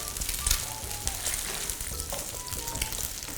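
Eggs frying in hot oil in a pan for shrimp curry-powder fried rice, giving a steady, close crackling sizzle throughout with a few louder pops near the start.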